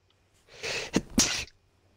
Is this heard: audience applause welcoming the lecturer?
no